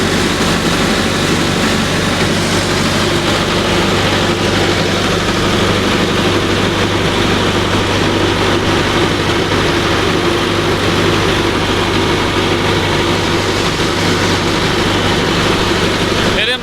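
A heavy 575 tractor engine drones loudly and steadily at close range while running a rotavator, a constant low rumble with a mechanical whir layered on top, unbroken throughout.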